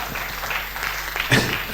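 A live-show audience claps briefly, scattered hand claps blending into a short wash of applause, with a louder clap near the end.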